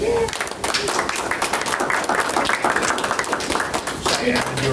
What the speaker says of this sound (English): I just wanted everybody to clap for you because I'm so proud of you